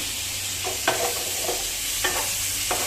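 Chicken gizzard sautéing in a pan for adobo with liver and heart, a steady close sizzle broken by a few sharp scrapes and stirring knocks.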